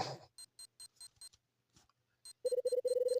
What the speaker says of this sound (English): There, my pager beeping somewhere.